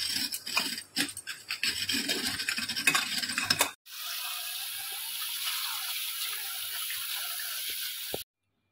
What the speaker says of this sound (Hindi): ए चाउल को 2-3 थर धोई के पानी रे बतुरई देबी